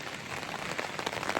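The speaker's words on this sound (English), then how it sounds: "yeah, it's very, very rainy" Heavy rain falls steadily on surfaces outdoors during a winter Christmas market outing, a dense close hiss with scattered drop patter and no voices.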